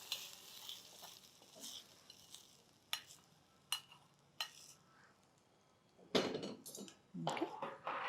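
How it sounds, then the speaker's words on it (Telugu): A spoon stirring hot tempering into yogurt in a home kitchen for an Ugadi dish, with soft scraping, light clinks against the bowl and a faint sizzle, quiet and close. "స్టవ్ ఆపేద్దాం, దీన్ని ఇందులో కలిపేద్దాం పెరుగులో."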